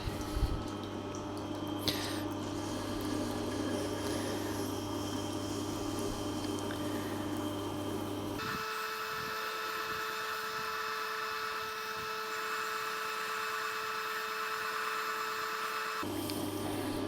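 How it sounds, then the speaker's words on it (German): A Tormek T-4 water-cooled sharpening system polishes a blade edge with a steady, continuous motor whir and grinding hiss. The tone shifts partway through as the contact changes. There is no talking. "Jetzt wird die Schneide aufpoliert und der Grat wird entfernt."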